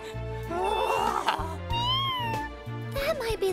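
A cartoon cat meows and caterwauls in a children's animated series, its drawn-out cries rising over a steady musical score throughout.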